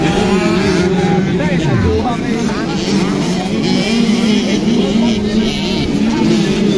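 65cc motocross bikes race in the final heat of an invitational competition at the Higalaay Festival, their engines buzzing and whining continuously with rising and falling pitch, mixed with an announcer talking over them.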